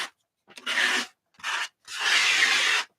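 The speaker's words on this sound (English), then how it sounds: "She can see that I'm doing what she did, just scraping paint down." Paint being scraped down across a surface with a tool, three raspy strokes with short pauses between them, the last one the longest, close and fairly loud with no talking.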